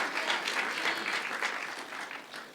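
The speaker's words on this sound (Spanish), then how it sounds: "Denle un aplauso al Señor" A church congregation claps steadily in dense, continuous applause during a worship service, moderately loud and filling the whole moment without pause.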